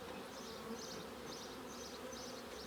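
Honeybees from active package hives buzz in a dense, steady drone that swells and fades in gentle pulses. The sound is close and continuous, with no voices.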